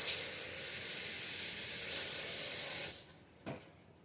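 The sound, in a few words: rinsing a cutting board under running water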